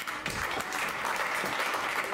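Warm, dense audience applause at an Amsterdam election debate, a sustained roar of many hands clapping, loud and even throughout the brief stretch.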